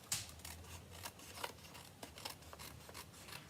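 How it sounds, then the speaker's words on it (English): Scissors cut paper during card making: faint, closely spaced snips repeat irregularly throughout, close by and with no talk. "And then just take your scissors."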